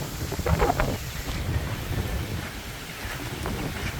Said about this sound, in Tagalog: oh, napakalakas ng hangin